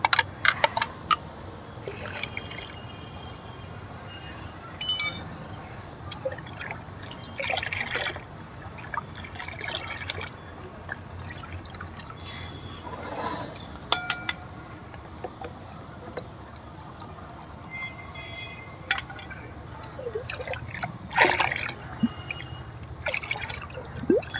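Instant coffee is stirred by hand into about ten litres of water for watering garden plants, giving soft intermittent sloshes, drips and splashes, faint and close, with quiet pauses between movements and no talk.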